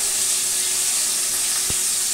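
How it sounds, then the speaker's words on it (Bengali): Fish fries in hot oil in a home kitchen, giving a steady, close sizzling hiss that holds throughout, with one soft knock near the end. "ঠিক আছে, মাছগুলো ভাজা হোক"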